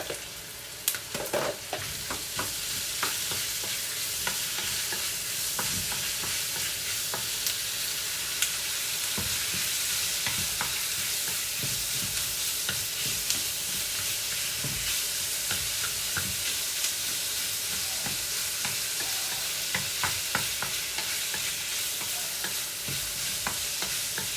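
Chicken pieces sizzle and fry in a pan for a stir-fry with vegetables, a steady dense crackle that runs close and loud throughout, broken by occasional sharper pops and scrapes of stirring.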